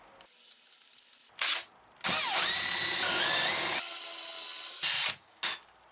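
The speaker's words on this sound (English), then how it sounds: "So I'll take a countersink tool and attach it to the drill." A power drill fitted with a countersink bit whirs in short bursts, then runs in a longer grinding spin as the bit cuts into wood, pitch shifting under load before stopping.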